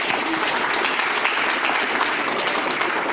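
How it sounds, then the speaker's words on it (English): An audience at a live event breaks into dense, sustained clapping that holds at an even loudness throughout, with no voices rising above it. "Can we please give ourselves a round of applause?"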